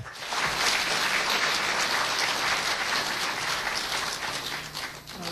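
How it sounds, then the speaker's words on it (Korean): A large audience at a 2007 academic award ceremony applauds to welcome the poet Jeong Hyeon-jong to the stage, a dense, steady roar of clapping that fills the whole stretch without pause. "여러분들이 큰 박수로 맞아주시죠"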